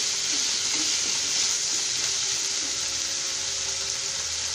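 Diced potato sautéing in a pan for masale bhaat, a soft continuous sizzle and hiss held at an even level throughout, with no voices.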